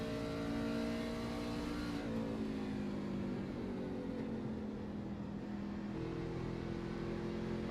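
A race truck's engine in a Truck Series racing game at Phoenix Raceway drones steadily, its pitch sagging as the throttle lifts off and then easing back on softly.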